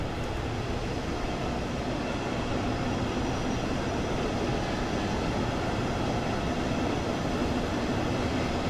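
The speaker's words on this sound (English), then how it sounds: "you see you have a train leaving now" A train departs a station in Train Sim World 2's Dresden route, a steady, even rumble of wheels and running gear that holds at a constant moderate level with no voices.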